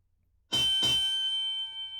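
A single bell chime from the Elder Gold Dragon import demo rings out clearly, a sharp double strike followed by a long, bright ringing tone that sustains and slowly decays, alone without talk.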